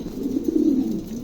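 A pair of pigeons, an Andalusian male and an opal female, cooing close by in a low, steady rolling murmur that swells briefly and then settles.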